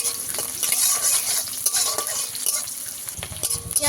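Onion frying in a pan, a continuous close sizzle with busy scraping stir strokes throughout.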